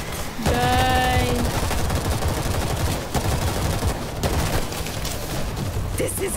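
Dense bursts of rapid gunfire fill the World War Z shooter during a zombie fight, loud and nearly continuous with overlapping shots and a short tonal game sound near the start.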